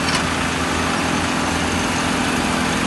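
A car engine runs at a steady, rough idle, a close, continuous rumble with buzzing vibration and no break.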